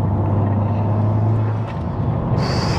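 A Honda Civic Type R FK8 drives along with a loud, steady low engine drone and road rumble inside the cabin, the pitch shifting as the note drops partway through.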